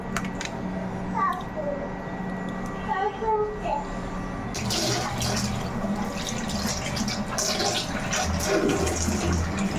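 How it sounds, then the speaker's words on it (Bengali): Running water and the clatter of cooking pots being rinsed in a home setting, loud and steady, with a voice and other talk in the background. "পাতিল ধোয়া শেষ"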